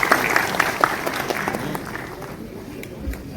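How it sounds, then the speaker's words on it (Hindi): Applause greeting a speaker as he comes to the stage at a social welfare department event, a burst of clapping from the audience that gradually fades, with voices mixed in. "जोरदार ताली से स्वागत करते हैं सर का"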